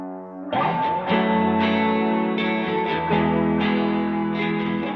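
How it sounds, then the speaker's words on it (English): Distorted fuzz instrument layer run through delay and filter effects and sent to a space echo, sustained and loud with dense harmonics, repeating echoing attacks and a wide reverberant tail throughout, no voices. "On that fuzz, we're adding a little bit of delay, a little bit of filtering."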